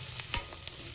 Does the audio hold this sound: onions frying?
yes